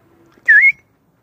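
A single bird sings outdoors, giving one clear, whistled chirp that glides in pitch. It is close and fairly loud, with near silence around it.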